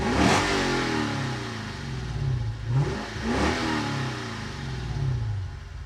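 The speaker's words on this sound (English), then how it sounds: "it would be rude of me not to play the note of this exhaust." A Lexus IS F with a 5-litre naturally aspirated V8 blips its exhaust in several quick revs, each rising and falling over a rumbling idle, heard close and alone.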